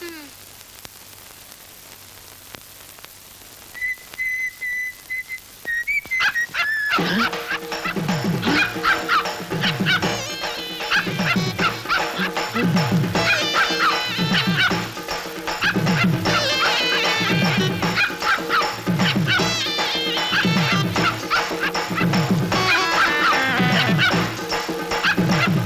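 A dog barks in a steady, repeated rhythm that starts suddenly after a quiet opening and stays loud and close, with other busy sound layered over it.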